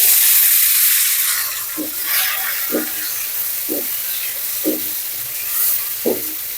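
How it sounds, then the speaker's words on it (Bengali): Shing fish and dried fish frying in oil in a pan, a steady broad sizzle with a few soft stirring scrapes at regular intervals, no talk. "শিং মাছ আর সুরসুটকি এগুলো একটু বেজে নিব"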